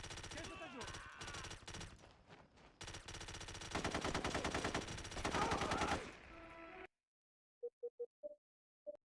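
Gunfire in the video game Socom 3, sustained rapid bursts of automatic fire at close range for about seven seconds, loud and continuous, then silence broken by a few short faint clicks.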